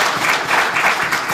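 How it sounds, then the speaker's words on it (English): Audience at a regional state address applauding the ministry: a brief, steady wash of crowd clapping, loud and full. "Give the ministry a round of applause."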